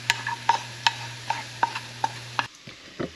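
Sautéed food turning golden in a pan, stirred with a spoon that taps and scrapes in a regular beat about twice a second over a low steady hum, then a softer pause near the end.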